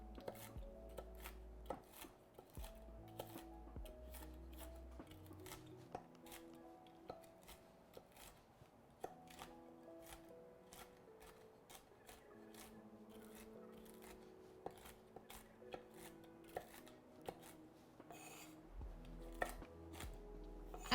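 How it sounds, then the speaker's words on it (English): A knife chops almonds for a broccoli salad on a board, close and crisp. Irregular rapid clicks and taps keep going under a faint low background. "These almonds are gonna give such a good crunch in this salad. Just the sound of chopping them is so satisfying."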